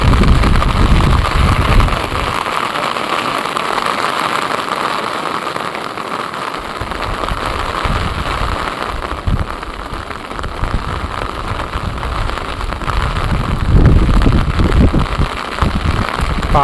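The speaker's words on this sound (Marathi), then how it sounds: "मोका पाऊस पडतो जोराचा पाऊस चालू आहे" Heavy rain pours down steadily at a dam, a dense roar with bursts of louder drumming at the start and end.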